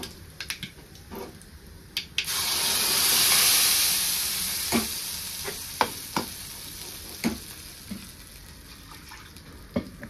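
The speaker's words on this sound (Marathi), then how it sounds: "जिरी मोहरी तडतडले कढीपाला टाकून घेते." Cumin, mustard seeds and curry leaves crackle in hot oil for a tempering: scattered sharp pops, then a loud sustained sizzle bursts in and settles into a steady hiss studded with repeated crisp snaps, close up with no talking.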